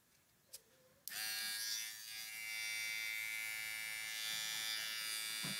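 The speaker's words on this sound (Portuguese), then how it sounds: "Aí tem esse barbeador também, essa maquininha aqui." A small electric shaver is switched on about a second in, after a faint click. It then gives a loud, steady, close buzz that continues to the end.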